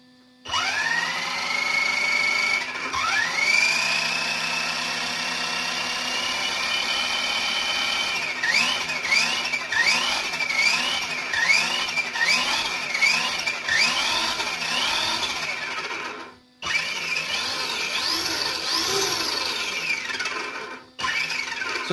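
A Kyosho Outlaw Rampage PRO RC truck runs continuously for over twenty seconds, a loud whining electric drivetrain with rising and falling pitch sweeps and squeals, briefly cutting out twice before revving again.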